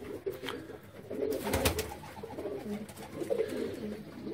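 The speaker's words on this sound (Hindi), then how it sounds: "मैं ज्यादातर जो है लाल आंख के कबूतर लगे हुए हैं" Red-eyed pigeons coo in a home breeding loft, soft, low, rolling calls that repeat and overlap at close range with no talking.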